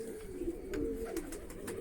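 Pigeons coo softly in a brief, low, rolling murmur, near and steady, with no voices.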